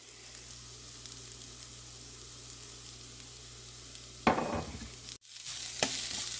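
Garlic leaves and grated coconut sautéing in a pan, with a soft continuous sizzle and a louder burst of stirring near the end.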